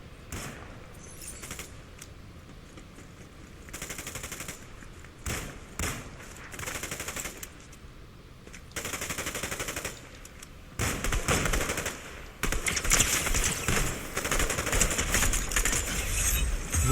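Bursts of rapid automatic gunfire and single shots in Fortnite, loud and close, in intermittent volleys that grow denser toward the end.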